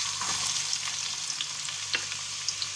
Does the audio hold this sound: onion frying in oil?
yes